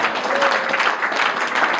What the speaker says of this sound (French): Est-ce que l'Église peut acclamer fortement le Seigneur?